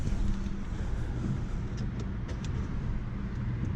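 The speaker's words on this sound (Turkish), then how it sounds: "Arabayı bir çalıştırayım eco modda olduğu için." Opel Corsa F 1.2 turbo petrol engine, a 2020 model with EAT8 automatic, starting and settling into a steady low idle rumble heard from close by, with no talk over it.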